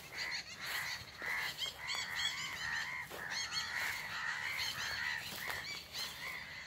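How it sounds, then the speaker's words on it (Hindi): Birds calling continuously in a college garden outdoors, a dense chorus of repeated honking, croaking-like notes over steady background, moderately loud with no talk. "अब सभी सुनिए इस चहचहाहट को, इन पक्षियों की कलरव की ध्वनि को सुनिए"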